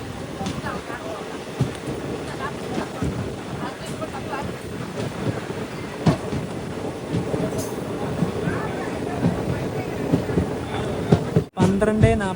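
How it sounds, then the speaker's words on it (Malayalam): Madurai passenger train pulling into Ramanathapuram railway station, a steady rumbling roll with wind buffeting the microphone throughout, someone talking over it. "ട്രെയിൻ ഇതാ രാമനാഥപുരം റെയിൽവേ സ്റ്റേഷനിലേക്ക് എത്തുകയാണ്"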